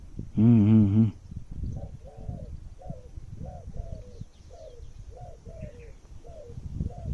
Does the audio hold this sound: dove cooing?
yes